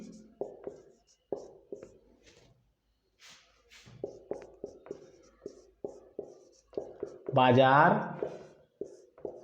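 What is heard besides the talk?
writing on a board during a lesson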